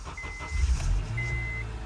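The engine of a car abandoned in the woods runs in a low, rumbling idle close by, uneven at first and then settling, with a thin tonal whine above it.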